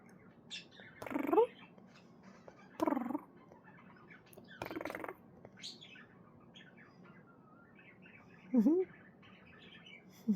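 A pet budgie coos and chirps in short bursts, a few soft warbling calls spaced a second or two apart over quiet background, close and fairly gentle.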